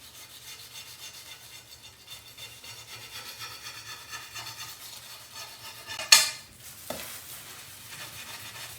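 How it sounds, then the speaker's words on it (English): A straight-edge blade scrapes baked-on spots off fireplace glass, producing a steady, faint gritty rubbing texture with one sharp scratchy stroke near the end. "if you've got these really baked on spots, that's where a straight edge is really handy."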